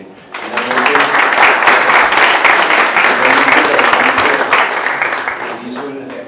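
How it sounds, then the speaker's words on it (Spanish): Sustained audience applause at a book launch for a university advertising book, rising quickly into dense, steady clapping from a sizable crowd and fading slightly near the end. "a quien me pido un aplauso"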